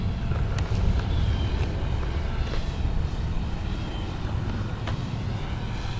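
A homemade RC canard model airplane comes in to land on a windy day, its small engine a steady buzzing drone close by, with a few faint ticks and clicks over it.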